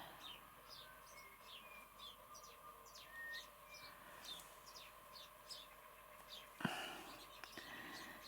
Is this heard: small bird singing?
yes